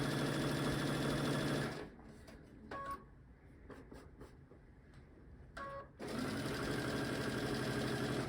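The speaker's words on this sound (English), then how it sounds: "you'll sew along the whole length of your strip" Sewing machine stitching quilt fabric strips: a loud steady whir that stops after about two seconds, leaving brief clicks and handling noises, then starts again for the final stretch.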